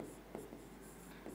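Quiet scratchy strokes of writing on a board in a classroom come as a few short, soft marks over a low steady hum.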